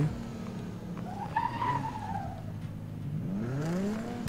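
A Nissan GT-R in the video game Need for Speed Most Wanted drives hard with engine roar and long, rising tire squeals as it skids, loud and close, with no talking.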